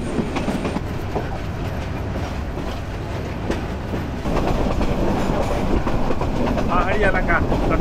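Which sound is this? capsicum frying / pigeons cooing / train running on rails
train running on rails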